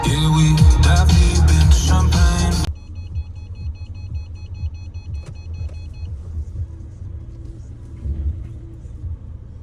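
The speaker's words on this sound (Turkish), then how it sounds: "Evet arkadaşlar arabayı park ettim." A car engine rumbles low and steady at close range while driving and then parking, after a short burst of loud music cuts off, with faint high electronic beeps briefly above the engine.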